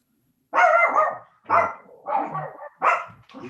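Neighborhood dog barking nearby indoors, four or five loud, sharp barks in an uneven rhythm with short gaps between them, heard alone without talk.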